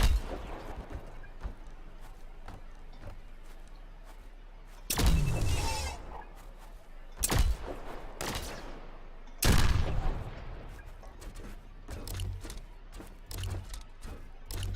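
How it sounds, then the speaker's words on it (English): Shots ring out in The Signal From Tolva, a few sharp bursts of gunfire popping amid a busy game soundscape, some louder and closer, others faint and distant, with no talk over them. "Somebody else was shooting at him."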